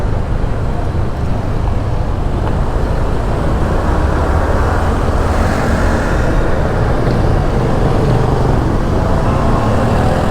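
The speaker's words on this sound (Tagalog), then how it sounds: "Grabe yung traffic." Heavy road traffic at Signal in Taguig, a steady loud wash of car and bus engine noise with continuous low rumble and no pauses, heard from close by.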